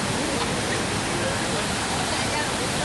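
The Cabuz river, swollen and flooded during Hurricane Stan in 2005 after washing away a bridge, roars as a loud, constant rushing wash, with a voice faintly underneath.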